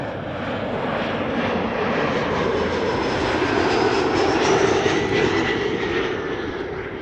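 A Lufthansa Boeing 747 at Schiphol roars steadily with its jet engines, a loud, broad, sustained rumble with a faint whine riding on top for the whole stretch, slowly swelling and easing slightly.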